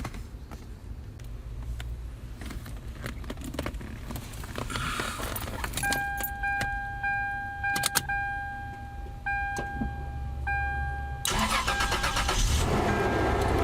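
Car engine cranking and then firing up during a brake booster replacement, with a steady mid-pitched idle, close and fairly loud, and faint clicks and tones partway through.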